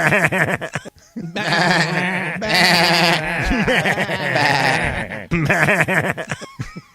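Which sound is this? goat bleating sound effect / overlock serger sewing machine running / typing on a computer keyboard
goat bleating sound effect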